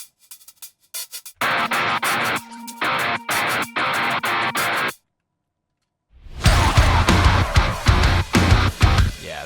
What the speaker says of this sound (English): which TJ killed these little hi-hat glitches